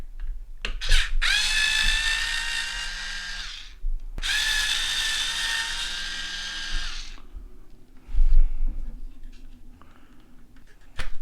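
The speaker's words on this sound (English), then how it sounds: "3 set screws here you want to remove." A power driver whirs as it backs set screws out of a GoPro mount base, in two long, close, steady whining runs separated by a short break, then a few clicks and faint handling noises.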